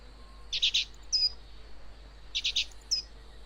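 Two short bursts of high, rapid bird chirps from Cheep Cheep, a small bird in The Book of Unwritten Tales, distracting bees at a nest, each burst followed by a brief higher tweet over a faint, steady background.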